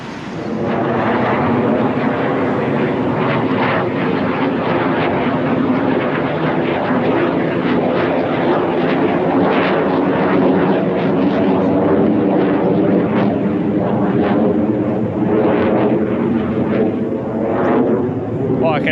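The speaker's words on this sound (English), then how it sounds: "Big, I don't know what they are, fighter jets." Fighter jets passing overhead at night near Ipswich, Australia, a loud continuous roaring rumble that swells and holds steady for nearly twenty seconds, with someone talking over the noise.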